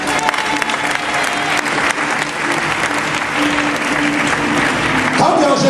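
A church congregation claps and cheers in sustained, dense applause filling the room, loud and unbroken for several seconds, with crowd voices mixed into the clapping.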